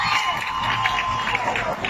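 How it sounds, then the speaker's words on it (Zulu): Audience clapping and cheering at a lively gathering, a dense wash of applause with whoops and shouts filling the space at moderate volume. "Ngicela imshayele ihlombe."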